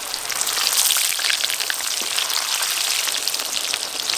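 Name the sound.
potatoes frying in oil for biryani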